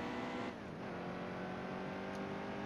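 A race car engine in the Heat 2 video game on a qualifying lap at Michigan, with a steady, sustained drone and a slight shift in pitch early on, heard continuously without talk.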